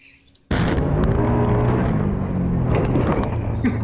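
A drift car on two wheels with its engine floored, a loud sustained roar kicking in abruptly after a brief quieter moment and holding steady under rattling and scraping noise to the end.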